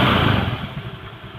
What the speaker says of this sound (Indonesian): motor tetap hidup.